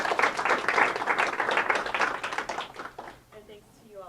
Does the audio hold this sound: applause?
yes